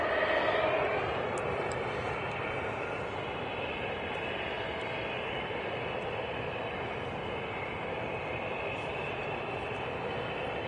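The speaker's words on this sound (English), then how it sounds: "There's also a Ryanair on the way out. That's a 737" A Ryanair Boeing 737 departs Manchester Airport, its engine roar a steady, broad rumble that holds at constant strength for the whole stretch, fairly distant and without voices.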